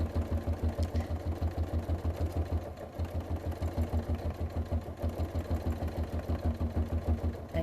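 A sewing machine doing free motion quilting with thick bobbin thread runs at a slowed pace, its needle thumping in a steady, rapid mechanical rhythm up close with only brief hitches.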